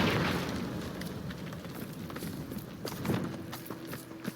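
Confringo blasting spell in Hogwarts Legacy bursting with a loud explosive roar at the start, then decaying into rumbling debris and scattered crackling impacts, with a smaller thump near the end.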